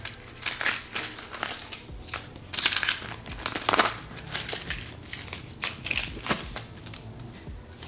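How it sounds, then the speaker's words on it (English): Loose change coins clinking and jingling as they are poured and shuffled into a paper cash envelope, a run of bright metallic rattles and small cascades in irregular bursts, close by and fairly loud. "So let's move all of the change into the coffee envelope."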